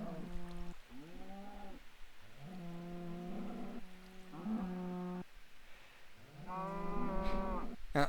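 Cows in a modded video game mooing repeatedly, several long drawn-out moos in a row with short pauses between them, fairly loud and close, with no talk.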